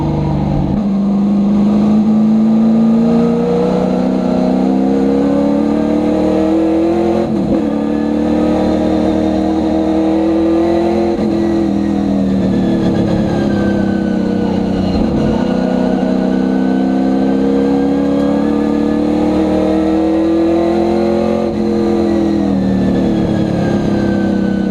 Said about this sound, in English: There's the Capri, there's another Mustang.